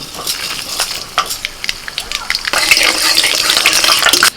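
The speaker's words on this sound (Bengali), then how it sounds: "কড়াইতে অল্প করে সরষের তেল দিয়ে দিলাম ফোড়নে দিচ্ছি শুকনো লঙ্কা আর কালো সরষে" Dried red chillies and black mustard seeds crackle and sizzle in hot mustard oil in a pan, with sharp popping spurts early on that build into continuous loud frying.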